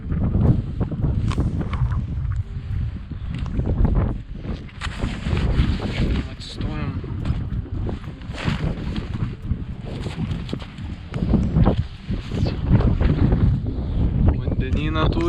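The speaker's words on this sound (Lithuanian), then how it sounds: "Taip, vėjas pietinių krypčių." Wind gusts across a sailboat at sea on the Atlantic on a rainy day, a loud, rumbling buffeting against the microphone throughout, with surging water and faint voices mixed in.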